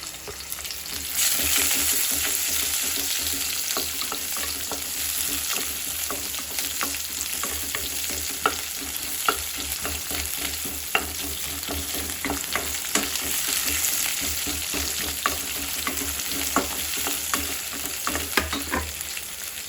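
Chopped onions sizzle and crackle steadily in hot oil, with occasional clinks of a stirring spoon over the continuous frying hiss.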